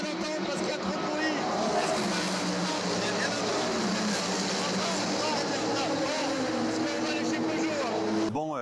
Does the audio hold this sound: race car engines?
yes